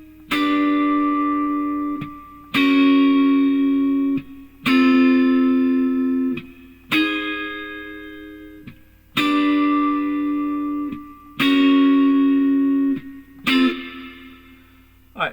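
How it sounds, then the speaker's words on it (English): Electric guitar plays the background chords of a song: seven sustained, effects-laden chords struck one after another, each ringing out before a short gap. "there's going to be some background chords that happen. And here's what the chords sound like."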